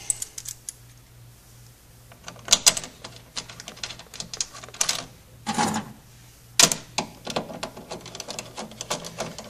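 A shelf label device being screwed into place on a shelf, heard as irregular close clicks, taps and ratcheting scrapes in quick bursts, with no voices.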